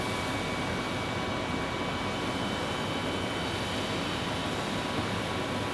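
An Air Canada airliner in its old livery arrives at Phoenix Sky Harbor, heard as a constant, dense wash of jet engine noise with a steady high whine over it and no voices.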